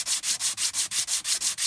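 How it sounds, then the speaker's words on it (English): Glass paper rubs by hand over a timber ring box in steady back-and-forth strokes, about nine even rasps in under two seconds, close and loud with no talk. "the glass paper needs to be on a smooth surface"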